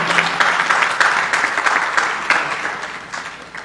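An audience at a religious discourse claps in a steady burst of applause that fades slightly toward the end, with no talk over it.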